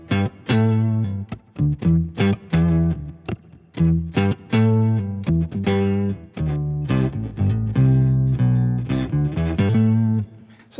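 An electric guitar runs through a Line 6 HX Stomp with delay and octave effects, into a hall impulse response and spring reverb, playing a loud phrase of plucked notes and chords that ring with echoing tails.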